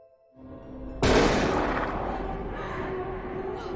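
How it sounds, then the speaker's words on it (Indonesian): A gunshot in a horror film as a mother fires at an agent: a sharp, loud blast that rings out and decays into a long rumbling tail, after a short stretch of quiet low tones. "Harker melihat mamanya lagi nembak agen Browning."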